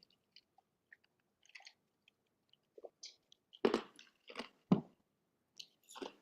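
Someone crunches ice between their teeth, with a few sharp, crackly bites up close against an otherwise quiet room and only faint small mouth sounds before them.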